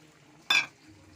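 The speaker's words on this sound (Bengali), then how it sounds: "আর এক মগ জল দিলাম" A mug of water splashes into a pot of cooking chicken and potatoes, one brief burst against a quiet background.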